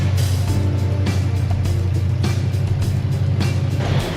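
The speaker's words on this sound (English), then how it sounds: "Got the Caprice leaving" A Holden Caprice SVS leaving an underground car meet in Maryborough holds a deep, loud, steady engine rumble close by, with pulsing exhaust throb and echoing revs.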